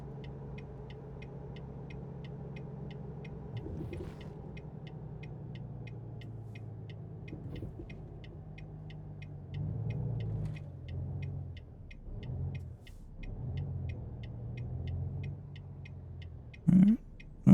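Vehicles passing on a road in American Truck Simulator, low rumbles rising and fading over a steady truck-cab drone, with a regular faint ticking and a short sharp sound near the end.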